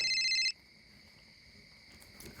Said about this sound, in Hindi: बस चाय पीने गप्पे लड़ाने मिले थे और इतने में अर्जुन की माँ का फ़ोन आ गया।